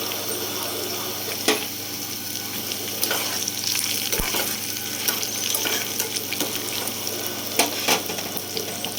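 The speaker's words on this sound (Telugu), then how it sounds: "బాగా ఫ్రై చేసుకోవాలండి." Asafoetida tempering frying in hot oil for mango pulihora, a steady loud sizzle with scattered clicks and scrapes of a spoon stirring the pan, and no voices.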